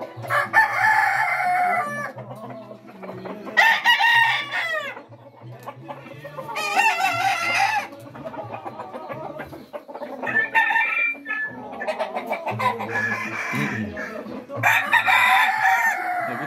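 Fighting roosters on a ranch crow loudly and repeatedly, several long calls overlapping with clucks and other fowl sounds, close by and without talk.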